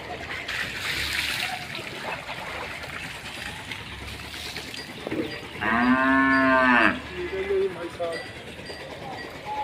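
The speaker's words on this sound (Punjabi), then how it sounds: "ਮੱਝ ਸਾਹਿਬ" A water buffalo at a Punjab fair gives one long, loud moo with a rich harmonic tone, lasting over a second, amid busy outdoor crowd noise and background chatter.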